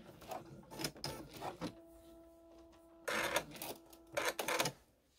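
A vintage sewing machine runs a locking stitch on quilt binding, with short bursts of rapid mechanical clatter and a humming motor in the pauses.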